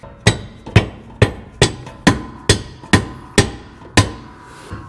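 A hammer drives a bolt into a car's subframe connector with about ten sharp, loud metallic strikes at an even, steady pace, close up and with no talking.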